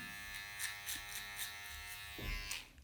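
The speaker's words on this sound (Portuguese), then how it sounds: "a gente vai tirar somente com a máquina de acabamento mesmo." An electric finishing clipper trims hair during a fade haircut, giving a close, steady high-pitched buzz with soft cutting crackles that shifts lower near the end.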